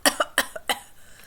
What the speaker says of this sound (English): he bends over and breaks into a hacking cough.